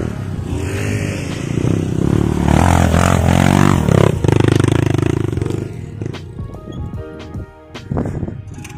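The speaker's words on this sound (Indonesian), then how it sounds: "Saya ngebawa motor nih." A trail motorcycle engine revs and rumbles nearby, rising and falling with clattering mechanical noise, then idling unevenly toward the end.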